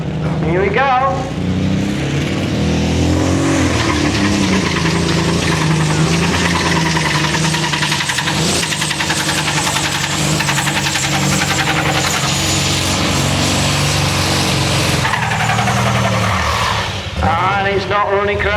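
A pulling tractor's engine roars loudly and continuously down the track, running rough and uneven with a coughing, spluttering knock, while an announcer talks over it.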